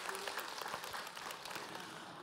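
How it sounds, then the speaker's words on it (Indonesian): Audience at an Islamic religious gathering applauding a teacher, a steady patter of many hands clapping throughout at moderate distance. "Tepuk tangan buat guru kita Habib Muhammad Syahab."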